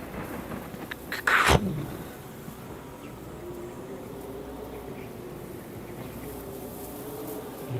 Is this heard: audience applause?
no